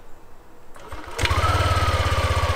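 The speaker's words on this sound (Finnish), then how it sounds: "mä laitan tästä moottorit käyntiin" A camper van's motor cranks and catches, then settles into a steady, fast, even chugging idle, close and fairly loud, following a quiet moment.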